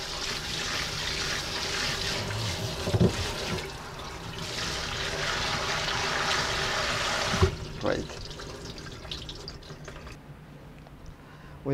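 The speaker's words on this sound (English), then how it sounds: "So now it's time to rinse them and pat dry them. Make sure the water is very cold and give them a light rinse." Cucumbers that were salted get a light rinse under very cold running tap water, a steady splash and trickle running through the whole stretch with a few brief clunks, fading toward the end.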